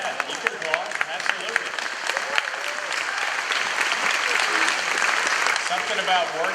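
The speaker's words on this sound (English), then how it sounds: "Yeah, you can applaud, absolutely." Crowd applause fills a room at a Naval Air Station Fort Worth roll call, with steady, dense clapping from many hands for the whole stretch, loud and continuous without fading.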